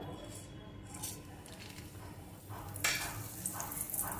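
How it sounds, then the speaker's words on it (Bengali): Bay leaf and whole garam masala sizzle in hot oil for a Bengali-style chicken kosa, a steady close frying hiss with light utensil clinks, growing brighter near the end. "আমি এর মধ্যে দিয়ে দেবো 1 পিস তেজপাতা আর গোটা গরম মশলা ফোড়ন।"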